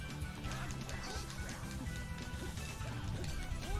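Bird enemies in the Tales of Vesperia battle squawk and screech amid clashing combat hits, with a dense, busy mix of cries and impacts throughout the short clip.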